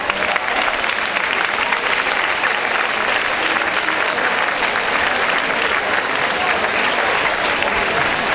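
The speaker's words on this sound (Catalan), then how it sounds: "Un fort aplaudiment!" A crowd claps steadily and loudly at an outdoor prize-giving for decorated streets during a neighborhood festa major in Sants, Barcelona, sustained applause with no speech over it.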